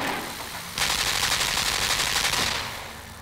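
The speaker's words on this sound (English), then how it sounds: "I just need the machine gun" Machine gun fire in the video game Limbo, shooting to break a box: a loud, sustained rattling burst of rapid shots lasting nearly two seconds, then fading out.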